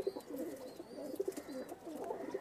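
Pigeons coo in a loft where breeding birds and males are kept, soft rhythmic throaty rolls repeating close by with faint chirps in the background.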